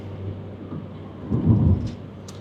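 Steady rain pours throughout while a low, rumbling roll of thunder swells midway and fades, close and heavy, in Canada.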